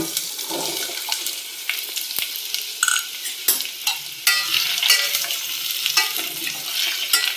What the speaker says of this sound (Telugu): నూనె కాగిన తర్వాత గుమ్మిడి ముక్కలు వేసుకోవాలండి